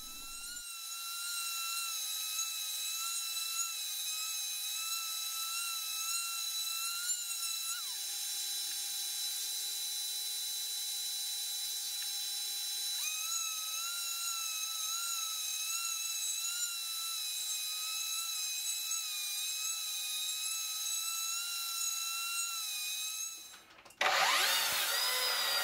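A power sander works over glued solid-wood panels for a nightstand, giving a steady tonal whine that holds for over twenty seconds with slight pitch shifts, then a brief loud burst near the end.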